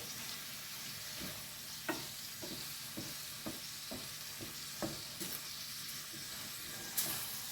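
Shrimp fry Chinese-style in a pan with a steady hiss, while a utensil stirs them in regular scraping knocks about every half second.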